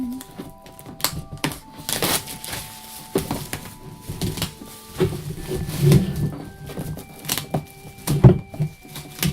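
Plastic wrap crinkles and tears off a Legend of Zelda Clue board game box, with close, irregular crackling and rustling bursts and a few sharper snaps.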